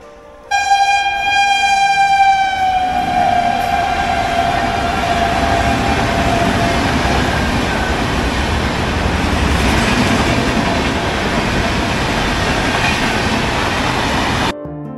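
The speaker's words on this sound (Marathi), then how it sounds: "आता येईल आपली ट्रेन." A train pulls in with a long horn blast at the start, then a loud, steady rumble and rattle of carriages rolling past close by.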